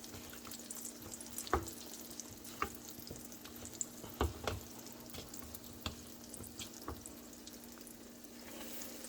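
Eggplant slices fry in hot oil with a steady low sizzle, broken by scattered sharp pops and crackles across the whole stretch, close and fairly quiet with no talking.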